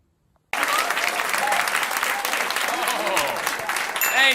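Comedy club audience breaking into applause at the end of a stand-up set, starting abruptly after a moment of silence and holding a dense, loud, sustained clapping with faint cheers mixed in.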